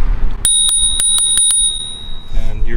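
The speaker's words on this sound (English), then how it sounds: "On this side over here, you got a bell" A handlebar bell on a Rad Mini e-bike rings in a quick series of about eight bright metallic dings, near and loud, then fades as a voice begins.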